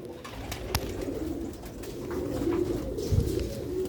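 Pigeons on a rooftop coo in soft, low, rolling calls that repeat close by against a muffled background hum, with a few sharp clicks.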